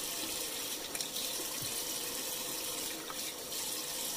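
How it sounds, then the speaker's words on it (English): Hot water runs steadily from a tap into a sink as a face is rinsed during a wet shave routine, a soft continuous splashing with faint gushes, no talking. "rinse all this stuff off, rehydrate your face, okay, with hot water"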